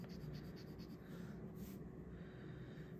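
Broad Monarch-nib fountain pen writing on paper, laying down a heavy flow of ink, with soft continuous scratching strokes close up and at low level throughout, no voices.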